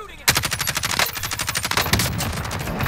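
Rapid automatic gunfire in the Call of Duty Warzone video game, including a KILO rifle, rattles in a dense burst that runs steadily for a few seconds, loud and close, with a short louder shot near the end.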